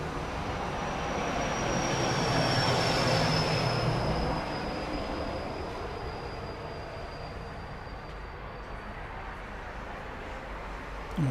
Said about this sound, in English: we'll watch the Delta do a little taxiing